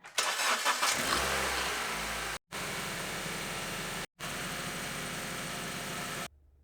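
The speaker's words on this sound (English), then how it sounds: "I started the car and added more coolant" A Honda Civic engine cranks and starts during a radiator coolant flush, catching with a loud burst and then settling into a steady close idle broken by two brief dropouts, with no voices.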